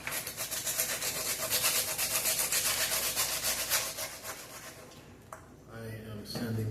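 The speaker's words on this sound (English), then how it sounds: "it's time to basically polish it up with some sandpaper, sand it down to make it look as best as possible" Sandpaper rubs back and forth over a toy playset ship in quick, even, close strokes that stop near the end, followed by a few quieter handling noises.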